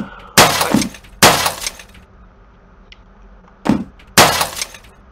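A ceiling fan falls and smashes in a horror video game, heard as four loud, sharp breaking-glass crashes in two pairs, each burst ringing briefly before fading.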